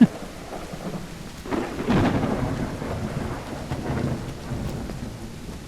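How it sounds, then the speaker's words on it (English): Heavy rain in a video game pours steadily with a low rumble of thunder rolling underneath, a dense continuous wash of sound without any voices. "Man, the rain is pouring."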